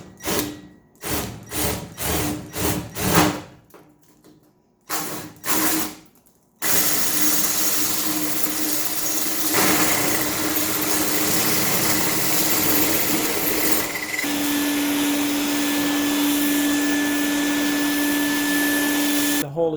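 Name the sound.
drilling a large hole for a fan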